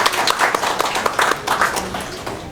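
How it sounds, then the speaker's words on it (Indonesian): An audience at a Maulid Nabi religious gathering applauds the muslimat performers with dense, steady clapping that holds through the whole moment, with no voices over it. "Tepuk tangan dong untuk muslimat."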